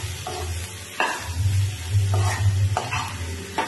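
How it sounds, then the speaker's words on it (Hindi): Mixed vegetables with asafoetida being stirred in a pan, a few scraping strokes of the spoon over a low steady sizzle, close up with no talk. "सभी चीज को हम अच्छी तरह से मिक्स कर देते हैं।"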